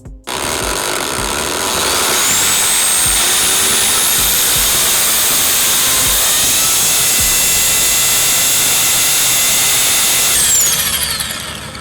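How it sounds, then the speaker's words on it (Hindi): Power drill bores holes through a belt into a balcony wall, a loud continuous whine that runs steadily for nearly the whole stretch and then tapers off at the end. "अब यहाँ पर हम ड्रिल करेंगे।"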